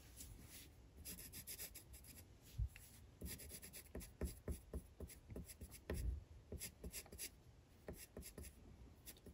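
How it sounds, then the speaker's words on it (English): Faint, steady rubbing and scratching of an eraser working over a pencil drawing of a girl holding a cell phone, in soft uneven strokes with a few small taps, and no talking. "And I'll just erase this."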